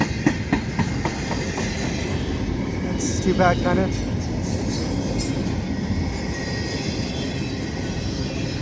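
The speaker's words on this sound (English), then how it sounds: "The empty well cars don't make a really great," A CP freight train of empty well cars rolls past Dorval Station, a steady loud rumble with rhythmic clacking of wheels over rail joints and a brief squeal, while a voice talks briefly over it.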